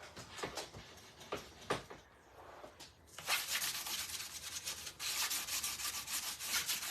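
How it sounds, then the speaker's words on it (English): Hand sanding of a DIY craft piece, a steady gritty rubbing with repeated strokes, faint at first and then louder and continuous, close by with no talking. "All right, I'm just going to sand it a little bit more."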